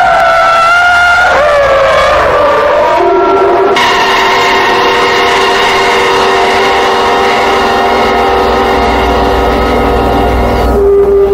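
A big truck in the film Duel roars with loud tyre skidding: strident, sustained tonal screeching that shifts in pitch, layered over a heavy, continuous engine drone, all close and intense with no pause.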